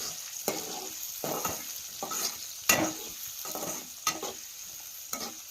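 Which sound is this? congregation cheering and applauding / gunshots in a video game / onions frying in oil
onions frying in oil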